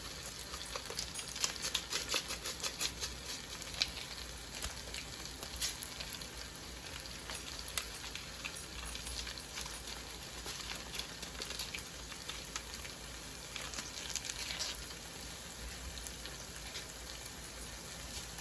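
Steady crackling sizzle of rice frying in a hot pan, continuous and even, with no voices.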